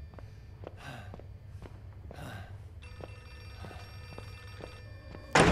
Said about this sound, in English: Is that a phone? Phone ringing.